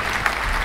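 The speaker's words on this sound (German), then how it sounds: "Gerne Applaus" Applause from a German comedy audience, a steady dense wash of clapping filling the whole short moment, fairly loud and close with no voices over it.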